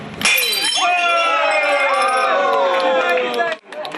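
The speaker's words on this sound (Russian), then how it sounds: "Разбивается тарелка, все собирают по осколочку" A plate is smashed for good luck on a film set, a brief sharp crash at the start followed by loud overlapping cheering voices from the crew.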